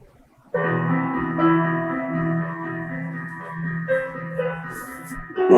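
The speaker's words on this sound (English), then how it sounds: "Hey Misa, can you play piano?" A humanoid AI robot plays a piano-like electronic melody of sustained, overlapping notes, close and clear, running steadily for several seconds with no talking.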